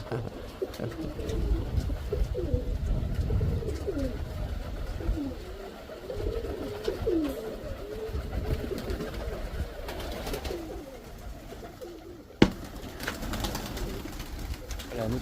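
Pigeons coo repeatedly and close by in a steady low murmur, among them a ginger female dove, with a faint engine hum in the background and one sharp knock near the end.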